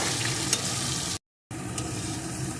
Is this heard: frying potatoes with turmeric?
yes